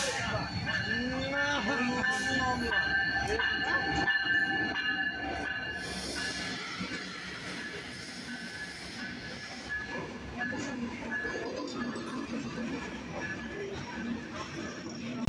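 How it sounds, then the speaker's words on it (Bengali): The Kopotaksha Express, bound for Khulna, pulls into Azimnagar railway station with a steady rumble of wheels and carriages, metallic squeals and hissing over a continuous roar, and voices faintly in the background. "আমাদের খুলনা অভিমুখী কপোতাক্ষ এক্সপ্রেস ট্রেনটি কিন্তু আজিমনগর রেল স্টেশনে অবস্থান করলো।"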